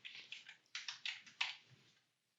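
Typing on a computer keyboard, a short burst of about a dozen crisp, close key clicks in uneven rhythm, then silence.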